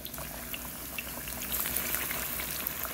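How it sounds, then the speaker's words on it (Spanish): Breaded fish frying in hot oil in a pan, a dense, even crackling sizzle with fine popping bubbles that holds steady throughout at moderate volume, with no talking. "le vamos a poner dos al sartén para que no se vaya a enfriar el aceite"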